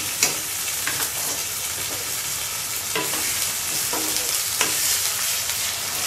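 Garlic, ginger and cumin paste fries in a pan with a loud, continuous sizzle, broken by occasional scraping stirs of a spoon.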